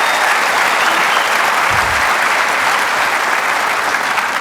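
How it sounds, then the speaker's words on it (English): An audience applauding at a Reagan forum, thick and continuous clapping from a large crowd that fills the whole stretch at steady loudness. "Thank you for applauding me"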